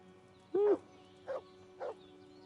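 A dog barking in the video game Kingdom Come Deliverance, three separate barks with a short pause between each, the first longest and loudest, over a steady background hum.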